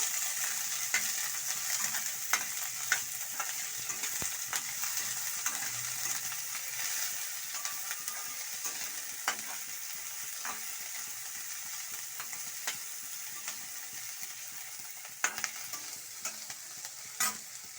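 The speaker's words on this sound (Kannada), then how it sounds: "ಈರುಳ್ಳಿ ಎಲ್ಲ ಫ್ರೈ ಆಗಬೇಕು" Onions frying in a pan for shavige upma make a steady, even sizzle throughout, broken by occasional clicks and scrapes of stirring, with no voices.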